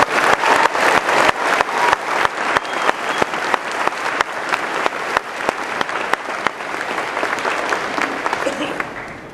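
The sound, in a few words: audience applause at commencement ceremony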